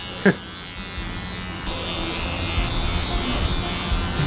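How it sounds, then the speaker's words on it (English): Steady buzzing electric shaver running over a head, a low continuous hum close to the microphone, joined by a sharp brief knock near the start. "I have one of my idols shaving my head"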